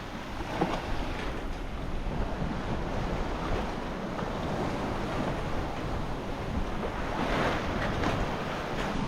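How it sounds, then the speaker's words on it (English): Wind of about 15 to 16 knots and breaking waves at sea on a sailing trip toward Alaska make a steady, close roar of wind and surf, with gusts buffeting the microphone and nobody speaking. "Wind is about, I think, 15, 16 knots."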